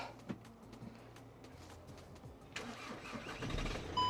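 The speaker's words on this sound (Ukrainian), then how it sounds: "ми зараз підемо запускати це чудо автомобіль" A car engine with Haldex all-wheel drive cranks and turns over, then catches and settles into a low idle, heard fairly close against a quiet background.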